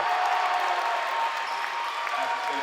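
A high-school boys basketball crowd cheers and applauds in a gym after a dunk, a steady wash of noise that stays loud throughout the brief moment.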